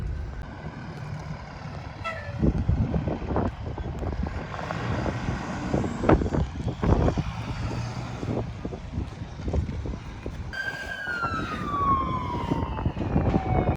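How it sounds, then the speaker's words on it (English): A fire truck arrives at the Whittier, Alaska harbour after a boat explosion, its siren wailing and gliding in pitch over rumbling engine noise, growing more prominent toward the end, with blasts of horn. "The fire truck started to arrive."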